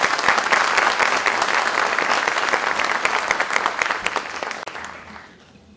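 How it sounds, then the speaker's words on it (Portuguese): Loud, sustained audience applause for a conference speaker, dense and steady for about five seconds before fading out at the end. "Peço uma salva de palmas ao nosso palestrante."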